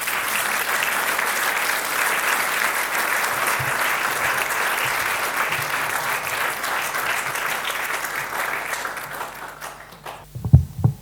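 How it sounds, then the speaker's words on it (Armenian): Sustained applause from an audience at a book launch for an author, steady clapping filling the room before tapering off near the end with a few louder knocks. "ճիշտ պահն է, որպեսզի եւս մեկ անգամ ձեր հասցեին ծափահարություններ լսեք"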